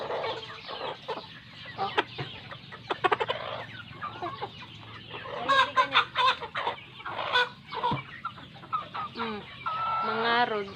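Four-month-old Rhode Island Red hens cluck and squawk nearby in repeated bursts, with a brief spoken exclamation.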